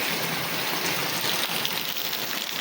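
Heavy monsoon rain pours down in a dense, constant hiss over paddy fields at rice-transplanting time, steady and enveloping with no pauses.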